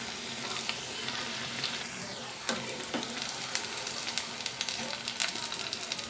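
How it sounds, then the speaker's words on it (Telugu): Garelu, lentil fritters, frying in hot oil, a dense steady sizzle close by with a few sharper pops and spatters as pieces are turned. "ఇప్పుడు ఒక్కొక్క గారిని వేసేసుకోవాలి వీటిని ఇలా టర్న్ చేసుకోవాలి"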